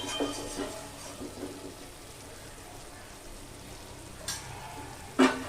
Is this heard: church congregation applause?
no